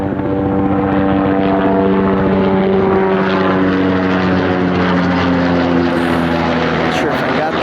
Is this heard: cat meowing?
no